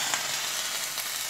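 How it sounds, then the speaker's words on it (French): Zucchini risotto in broth sizzling steadily in a pot over medium heat while being stirred, a close, even bubbling hiss with no talk. "Maintenant, on remue. On baisse le feu. À feu moyen."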